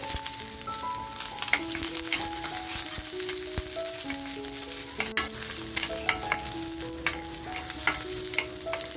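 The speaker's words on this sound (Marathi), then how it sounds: "तर बघा मिरची आपली अशी खमंग भाजली गेली आहे" Green chillies fry with garlic and ginger in a pan for chicken thecha, a continuous close sizzle broken by frequent clinks and scrapes of a stirring spoon.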